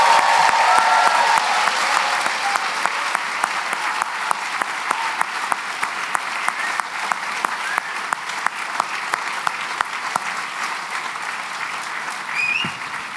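Sustained audience applause at a medical and dental school white coat ceremony for the class of 2027, a dense, steady clapping crowd filling the whole stretch at even loudness, easing slightly near the end.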